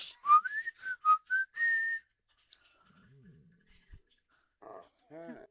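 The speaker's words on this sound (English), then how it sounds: "I hear the sound whistling." A short whistled tune of several bright notes plays up front in The Sims 4, followed by quiet low rumbles and a few brief game sound effects.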